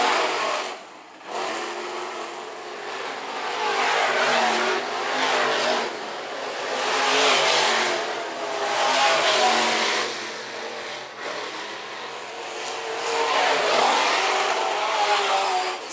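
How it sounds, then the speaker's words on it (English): Modified race cars circle a county raceway, their engines rising and falling in long, loud swells as packs pass, revving and accelerating continuously without a break and with no voices heard. "Tom shoved the nose over corners 1 and 2, now overtakes that 4th spot is Max."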